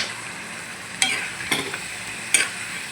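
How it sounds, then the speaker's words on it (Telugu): Country chicken pieces with garlic frying in a pan, a soft sizzle under a few sharp scrapes as a spoon stirs them, close up with no talking. "నాటుకోడి వేస్తున్నాను ఫ్రెండ్స్. ఇలా ఒకసారి తిప్పుకోండి."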